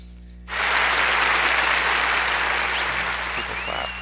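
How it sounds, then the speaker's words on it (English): A sound effect of a crowd applauding starts abruptly and holds as a dense, loud wash of clapping for about three and a half seconds, fading slightly toward the end. "people clap."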